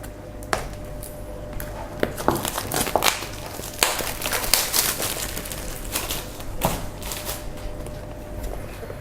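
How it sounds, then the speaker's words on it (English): Plastic protective film peeled and crinkled off a new Apple Magic Trackpad 2 during unboxing, a run of close, irregular crackling and rustling bursts with sharp snaps scattered throughout, no speech. "let's remove the plastic paper"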